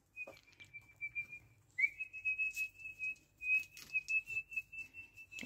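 A person whistles a sustained, slightly wavering high note in a quiet outdoor setting to call birds, breaking off briefly and resuming, with soft clicks and light background noise around it.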